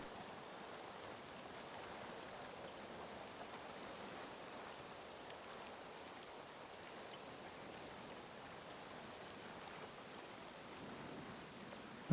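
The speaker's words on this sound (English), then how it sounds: "Heavy rain, but not stupid crazy wave action." Heavy rain in the SCUM video game pours in a steady, dense hiss that holds at an even level without a break, with no voices.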